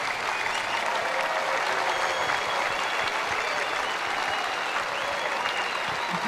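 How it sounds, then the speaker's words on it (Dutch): An audience claps loudly and steadily for everyone involved in a project, a dense, sustained wash of applause that holds at full strength from start to finish. "Ik wil heel graag een applaus, zo hard mogelijk"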